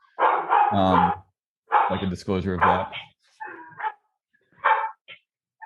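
Dogs bark indoors in a few sharp bursts mixed with a man's speech, the barks loud and close between stretches of quiet.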